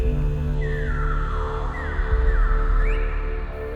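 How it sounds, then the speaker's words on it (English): An Albert's lyrebird calls with sweeping, rising and falling whistled notes over a dense, steady background of rainforest sound in Australia. "The exotic Albert's lyrebird."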